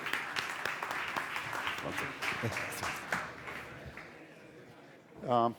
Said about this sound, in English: Big round of applause for your moderator, Alfonso de Leon from IE Business School.